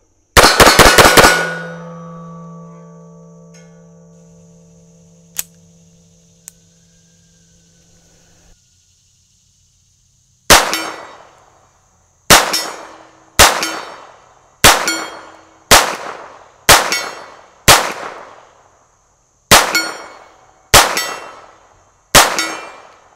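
A Smith & Wesson Model 41 pistol fires at steel targets outdoors. A loud ringing metal strike opens, then after a pause comes a string of about ten sharp, evenly spaced shots, most followed by a bright clang. No one speaks.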